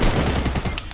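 Dense gunfire from the video game Fortnite, a rapid burst of loud overlapping shots filling the whole short moment.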